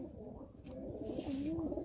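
A pet pigeon coos close by in a soft, rolling call that rises and falls, with low background noise around it.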